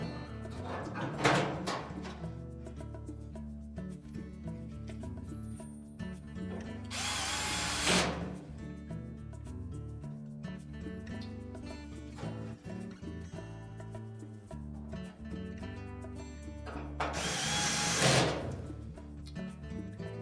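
A power drill drives two screws to secure the drum support during a Whirlpool clothes dryer repair, with two loud bursts of whirring several seconds apart over a steady hum, near and with no talk.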